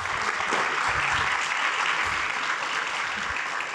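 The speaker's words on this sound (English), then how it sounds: "So please give them a big round of applause." Audience at a journalism conference in Vermont breaks into a big round of applause, a dense, even wash of clapping held steadily throughout.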